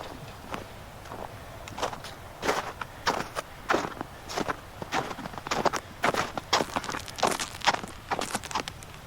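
Crampon footsteps crunch across thin, partly melted ice in winter, a steady series of sharp crunching steps with brittle cracks, close and fairly loud with no talk.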